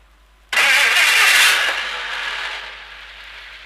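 A 1958 car engine cranks and catches abruptly, roaring up loudly for about a second before settling into a steady, slightly lower running note around 1,200 RPM, close and alone.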